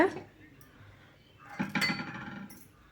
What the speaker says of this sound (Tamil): ஏலக்காய் தூள் சேர்த்துட்டு ஒரு நிமிஷம் கலந்து விட்டுக்கோங்க